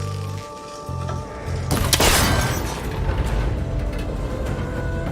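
A shot strikes a cable connector in Horizon Forbidden West, giving a single loud impact and breaking burst over steady ambient hum and rhythmic game sounds, followed by lingering crackling debris.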